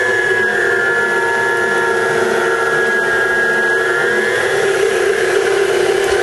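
An electric pasta machine rolls and kneads dough with a steady, unbroken motor drone and whine that stays loud and close throughout, with no talking.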